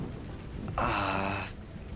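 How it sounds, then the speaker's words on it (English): Rain in the video game Dust: An Elysian Tail, a steady hiss of rainfall with a brief brighter, louder swell in the middle before settling back to a soft, even patter. "More rain."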